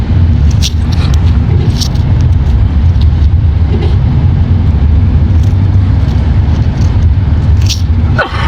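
A car is driven along a road, its engine and tire rumble heard from inside as a loud, steady low drone with small knocks and rattles.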